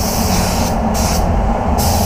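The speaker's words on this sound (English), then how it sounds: "Sprays the base nice, so I want to spray the clear nice too." Loud, close hissing spray from a DV1 spray gun applying clear coat to a car, continuous with a few short pauses in the upper hiss as the trigger is eased.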